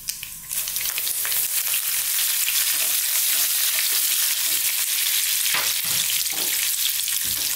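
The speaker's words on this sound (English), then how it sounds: "Now I'm going to go in with some curry leaves." Curry leaves dropped into hot oil for a raw green banana masala, a loud continuous hissing sizzle and crackle filling the clip after a brief quieter start, with occasional stirring.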